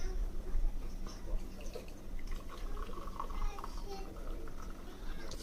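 Dubai chai is poured slowly through a strainer, making a close, steady liquid trickle and scattered drips while voices, including a child's, talk over it.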